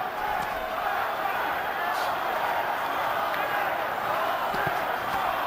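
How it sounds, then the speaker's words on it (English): Large arena crowd at a 2001 Oscar De La Hoya vs Javier Castillejo boxing match, a steady loud roar of massed voices chanting and cheering continuously throughout, with no clear individual speech. "Crowd chanting for their man, De La Hoya."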